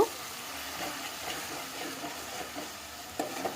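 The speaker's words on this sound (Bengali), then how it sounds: "এখন আমি মাংসটা একটু একটু করে নাড়াচাড়া করে পেঁয়াজটা একটু কষিয়ে নিব" Meat and onions fry in oil in a pan with bay leaf, cinnamon and cardamom, giving a steady soft sizzle while they are stirred, with faint scraping under the hiss.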